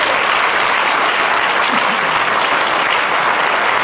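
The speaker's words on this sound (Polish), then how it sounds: "Brawa dla fundacji przede wszystkim." Audience at a charity concert in the Oratorium in Bochnia claps steadily, a dense, loud wash of applause that holds at an even level from start to finish with no voices over it.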